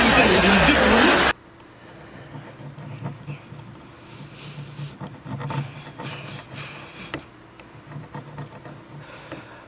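Wood of a homemade bass guitar body is sanded by hand, with soft, irregular rubbing strokes close by after a short burst of loud noise at the start.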